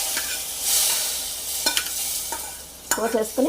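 Tempering being stirred into tamarind rava pulihora, close spoon scrapes and wet stirring over a soft sizzle, with a run of clattering strokes toward the end and no voices.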